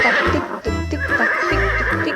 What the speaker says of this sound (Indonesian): Wah, ada kuda juga nih.